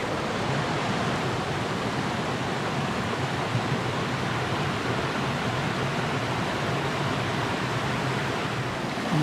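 Water flows steadily through Crump Creek, a wooded stream where logs have washed down in high water, giving a continuous, even rushing wash that holds at a constant level with no talking.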